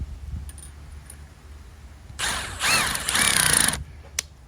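A cordless power drill drives screws into a wooden deck privacy shutter, with two close, loud bursts of whirring that rise and strain briefly, then stop.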